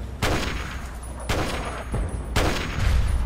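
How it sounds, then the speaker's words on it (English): Gunfire in the Fallout 3 video game, with three loud bursts of shots roughly a second apart over a steady low rumble, close and dominant with no talk. "What are you shooting at?"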